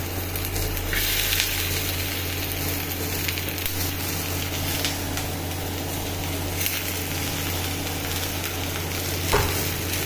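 Onions and peanuts fry together in a pan for avalakki, a steady dense sizzle with occasional stirring scrapes, close and continuous with no talking.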